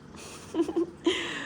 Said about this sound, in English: So I'm making dinner while Minnie Cooper meows at me.